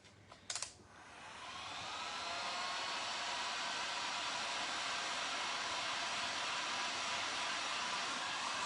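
A hair dryer blows steady, even airflow to dry paint on a thrifted shelf. It starts with a brief click and rises to a constant, fairly quiet whoosh that holds for several seconds.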